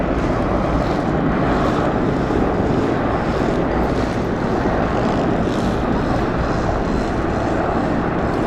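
A loud, steady engine drone with rotor thrum from several helicopters fills the air throughout, passing low overhead in Serbia, with heavy wind buffeting.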